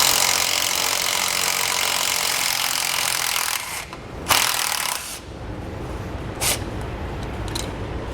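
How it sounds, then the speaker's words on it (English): A 10mm socket works a bracket bolt on top of the rear differential of a 2015 Chevrolet during an air helper spring install, giving a steady broadband scraping rasp with a few sharp bursts, close and alone. "We're going to take a 10mm socket right on the top side of our rear differential. We're going to remove this bracket that is holding this line down here."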